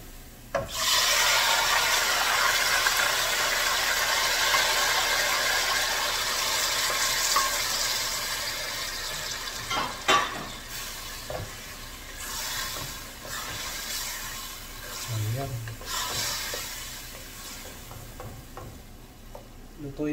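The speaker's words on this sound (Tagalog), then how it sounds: "Lagyan na natin itong tomato." Chopped tomato dropped into garlic browning in oil for linguine with lobster, crackling and sizzling loudly up close while a spoon scrapes and stirs in rhythmic strokes across the pan.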